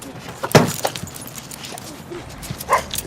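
A young pit bull pup gives a few short barks and yips close by, along with scattered faint clinks and movement noise, over a brief stretch.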